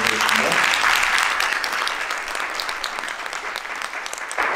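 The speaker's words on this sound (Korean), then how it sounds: "큰 박수로 환영해 주시기" Sustained audience applause fills a forum lecture hall as a university professor is welcomed to the stage, steady dense clapping from many hands, loud and close, running throughout before easing slightly at the end.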